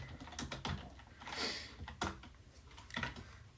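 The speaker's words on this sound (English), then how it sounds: "So I'm just typing in Desmos Scientific Calculator." Typing on a computer keyboard into the Desmos scientific calculator, an irregular run of close, crisp key clicks with short pauses between them, moderately quiet and alone.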